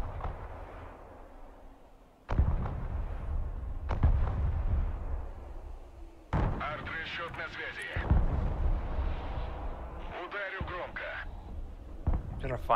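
Artillery strike in Broken Arrow multiplayer battle: several heavy booming impacts land one after another, loud and near, with rumbling aftermath between them, while a player talks over the action.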